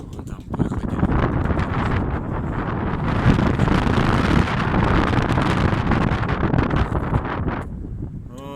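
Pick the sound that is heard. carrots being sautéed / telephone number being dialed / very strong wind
very strong wind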